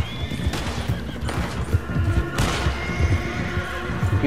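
A horse in Red Dead Redemption 2 Online neighs loudly over clip-clopping hooves, with a couple of sharp whinny bursts standing out from the steady game soundscape.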